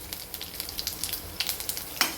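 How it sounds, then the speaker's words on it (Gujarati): Asafoetida and seed tempering frying in hot oil for a leftover millet rotlo recipe, a steady close sizzle with light crackling pops and a sharper burst near the end, no voices. "હિંગ દાણા નાખી દઈશું પહેલાં આપણે, જેથી કરીને તળી જાય"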